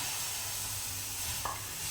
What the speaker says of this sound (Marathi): आपण हे पॅनकेक भाजून घ्यायचे आहे थोडंसं तूप घातलं आहे मी इथे